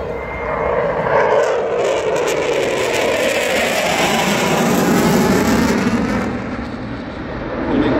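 A jet aircraft pulls a sustained 9G 360-degree turn at an airshow in Ayrshire, Scotland. It produces a loud, continuous roar that swells and shifts as it passes in front of the crowd.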